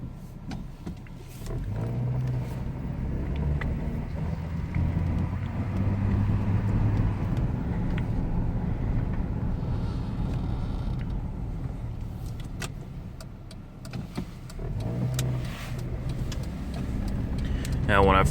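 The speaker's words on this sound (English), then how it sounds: "So after all this work, we're going to take it for a quick test drive." A 2003 Chevrolet TrailBlazer on a test drive, heard from inside as a steady low road and engine rumble lasting throughout, with a voice talking over it.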